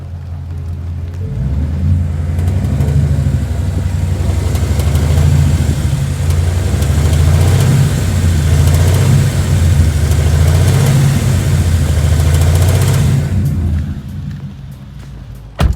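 A Ford Mustang engine runs steadily at around 1500-2000 revs with a possible ticking fault, a sustained close mechanical drone outdoors in rainy weather, then cutting off near the end.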